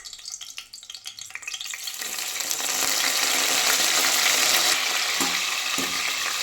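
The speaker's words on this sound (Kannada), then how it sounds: "ಇದನ್ನು ಚೆನ್ನಾಗಿ ಎಣ್ಣೆಲಿ ಫ್ರೈ ಮಾಡ್ಕೊಳ್ತಾ ಇದ್ದೀನಿ ನೋಡಿ." Mint leaves fry in hot oil for an egg and spinach pulao. Quiet stirring clatter at first gives way to a loud, continuous sizzle that swells and then holds steady, with a few scrapes near the end.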